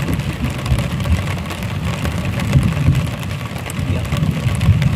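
Rain falls steadily outdoors during a fishing outing, a continuous close hiss with low rumbling underneath and no talking.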